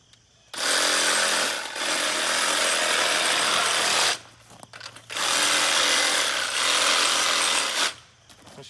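A power saw rasps loudly through meat and rib bone, running in two long continuous bursts separated by a short pause, with no talking.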